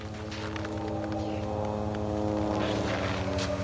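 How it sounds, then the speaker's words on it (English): An airplane drones overhead, a steady layered propeller-like hum with strong harmonic tones, loud and continuous throughout, with faint scattered ticks but no talk. "Finally hearing that plane."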